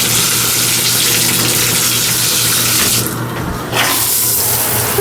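A hotel shower at the Hyatt Place Memphis Wolfchase Galleria runs in a loud, steady hiss of spraying water with water draining below, briefly changing and thinning for a moment before the full spray returns.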